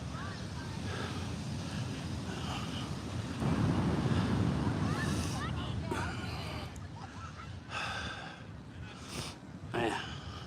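Ocean surf rolls in at Venice Beach, a steady wash of breaking waves under gusty wind buffeting the microphone, with a voice talking over the continuous roar.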